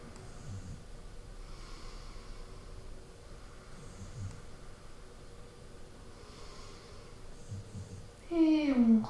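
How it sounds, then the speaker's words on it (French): Slow, soft breaths drawn in and out during a prenatal yoga posture, recurring every few seconds at low volume, followed at the end by a voice. "On respire."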